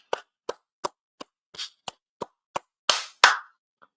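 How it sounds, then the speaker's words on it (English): A handful of sharp hand claps, about ten, spaced unevenly, ending in two louder fuller claps and one faint one. "Give ourselves a round of applause"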